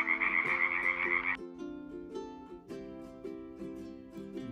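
Frogs croak in a continuous chorus, rhythmic, evenly pulsed calls layered over each other, with a brighter higher trill at the start giving way to lower repeating croaks, moderately loud and with no talking.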